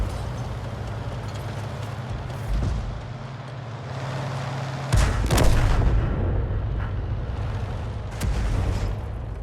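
Tank cannon shots in a World War II tank video game, a deep boom near five seconds and another softer blast later, over a steady low engine rumble and background battle noise.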